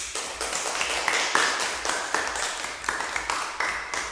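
Students in a classroom clap for a presenting group, a modest, uneven patter of hand claps with rhythmic accents, fairly close and moderately quiet.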